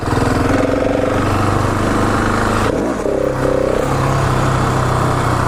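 KTM 701 supermoto single-cylinder engine revving steadily during wheelie practice on a stunt lot, a loud close drone that dips briefly near the middle then climbs back to a constant pitch.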